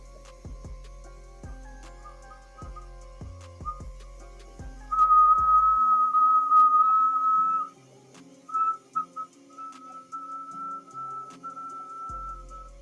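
Hot glass piece whistling during glassblowing: a thin, steady high whistle rises out of a low hum, holds for a couple of seconds, then returns in shorter wavering bursts, with occasional clicks and no talking.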